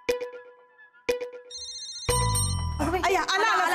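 A phone ringtone plays in repeated short electronic bursts, then a louder musical tone cuts in, followed by someone talking.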